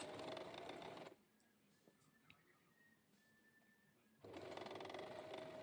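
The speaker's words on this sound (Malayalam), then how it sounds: "ആ ഫ്രില്ലിന് നമ്മൾ അടിച്ചു കൊടുത്ത അതേ ലൈനിൽ കൂടെ തന്നെ ഇതിൻ്റെ മുകളിൽ കൂടെ സ്റ്റിച്ച് ചെയ്ത് കൊടുക്കണം" Sewing machine stitching a frill onto a cotton frock for a small child, running loud and fast at first, stopping for about three seconds of near silence, then whirring again.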